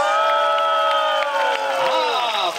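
A theatre audience at a comedic fairy-tale show cheers and whoops loudly, the high voices of excited shouting blending into a sustained roar that continues throughout.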